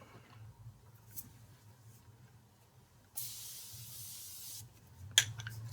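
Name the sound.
spraying makeup setting spray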